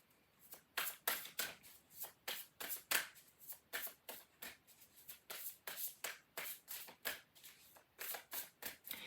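Oracle cards are shuffled by hand in quick repeated riffling bursts, close and crisp, a steady rhythm of papery flicks throughout with no talking.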